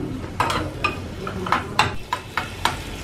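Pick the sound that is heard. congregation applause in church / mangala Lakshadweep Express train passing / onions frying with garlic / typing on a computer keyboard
onions frying with garlic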